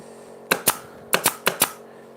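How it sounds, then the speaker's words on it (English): A nail gun drives 23 gauge pin nails into wood while a right-angle jig is being assembled, giving five sharp, close snapping shots: one pair, a short pause, then three in quick succession, with no talk. "I'm going to use my nail gun. Use the 23 gauge nails just to pin it in one place"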